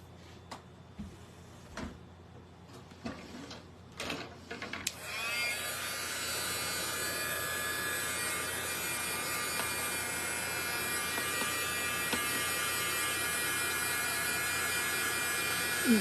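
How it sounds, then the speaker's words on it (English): A handheld heat tool drying paint on vintage cottage-style decoupage Christmas decor starts after about five seconds of quiet handling noises, then blows a steady, loud, continuous whir with a high whine until the end. "I do have my heat tool here, so I'm sorry, hopefully that won't be too"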